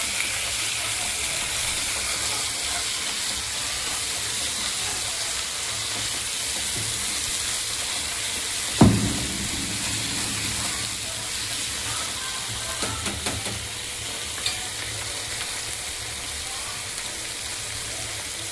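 Home-made masala sautéing with onion, tomato and garlic in a pan: a steady sizzle and hiss throughout, with one sharp clatter partway through and a few faint stirring knocks.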